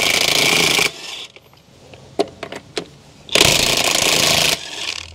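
A half-inch DeWalt impact wrench loosens a 22 mm lug nut on a Jeep Gladiator's aluminum wheel, two loud sustained rattling bursts separated by a quieter stretch of small clanks and handling noises.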